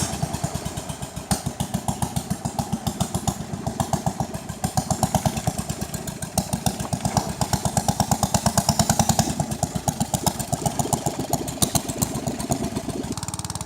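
A small cruise boat's engine chugs loudly and steadily on Lake Songkhla, with a fast, even pulsing throb and a rattling, shaking hull. It runs close and unbroken, with no talk.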